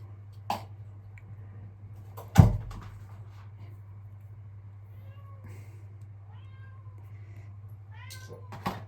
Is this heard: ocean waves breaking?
no